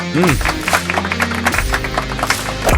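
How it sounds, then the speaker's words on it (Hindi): An audience applauds loudly in a dense, continuous spatter of clapping, with voices and shouts mixed in and a low rumble underneath. "दोनों तरफ से बज गई है जोरदार तालियां"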